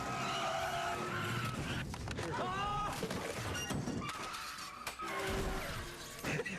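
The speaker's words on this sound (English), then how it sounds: "I just wrecked in turn 5" A race car in a racing video game skids with squealing tires and crashes, with loud scraping and crunching impacts over continuous engine roar while people talk over it.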